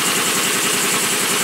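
A long-neglected engine idles steadily right after finally starting, with a loud, even low rumble and regular pulsing close by and no voices.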